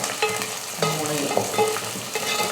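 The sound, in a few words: sautéing garlic and dried fish in pan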